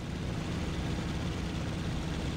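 Aircraft engine roaring steadily at takeoff power in IL-2 Sturmovik, an IJN mission flight: a dense, continuous low drone with broadband rush, loud and unbroken throughout.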